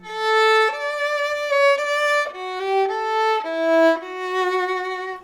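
A violin plays a clear, smooth melody of sustained bowed notes, close and steady, with clean tone and no scratching.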